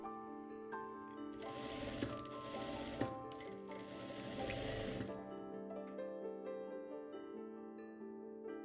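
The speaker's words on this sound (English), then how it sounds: "stitch right next to the cord all the way down" Sewing machine stitching right next to the cord on a corset loop panel, a steady run of rapid mechanical stitching for about five seconds, then quieter whirring and clicks as it slows, close and alone.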